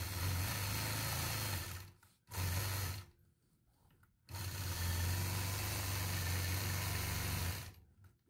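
A home sewing machine machine-quilting a hairpin-pattern quilt block runs in steady bursts of rapid mechanical stitching, stopping briefly twice before resuming, close and clear with no talk.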